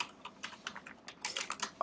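Quick bursts of computer keyboard typing, close and fairly quiet, with uneven clusters of key clicks and a firmer tap at the end.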